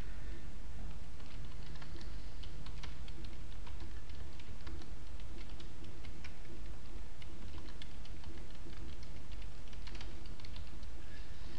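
Rapid, steady clicking of keys on a computer keyboard, close and fairly quiet, continuing without pause and with no voices.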